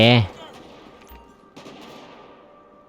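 Gunfire in GTA V with a zombie mod: a single loud shot at the very start that decays quickly, then a faint, lower-level crack around the middle of the clip.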